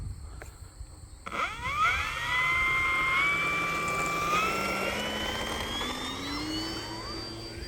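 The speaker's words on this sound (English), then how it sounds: "Nice takeoff, and flaps up, gear going up." An E-flite Focke-Wulf Fw 190A 1.5m RC model warbird takes off, its electric motor whining up in rising pitch after a throttle burst and holding a steady, fairly loud drone as the plane climbs away.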